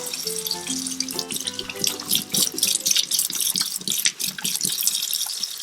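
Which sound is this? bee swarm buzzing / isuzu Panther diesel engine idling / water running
water running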